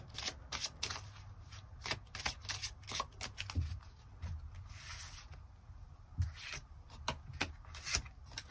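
Tarot cards are shuffled close up with rapid, continuous riffling and slapping that comes in quick bursts throughout, with no talking.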